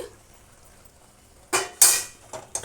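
A spoon scrapes against a pan while a sweet potol mishti filling of syrup and milk powder is stirred, with a few quick metallic strokes after a quiet pause.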